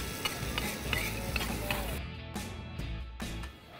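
Scraping and clinking of a utensil stirring ground spice paste in a wok in Trenggalek, Indonesia, with a soft sizzle and repeated metallic taps close by.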